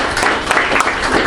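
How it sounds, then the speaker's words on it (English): Brief burst of applause from an audience at a British Chamber of Commerce evening gathering welcoming new members, dense and fairly loud with no talk over it. "let's give them a round of applause as well"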